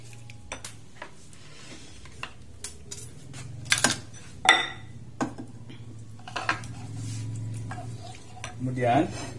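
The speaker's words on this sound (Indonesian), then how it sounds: "kemudian kita aduk" Chicken taliwang spice mixture being stirred in a pan after a splash of water, with scattered spoon scrapes and clinks against the pan over a low steady hum, some louder strikes in the middle.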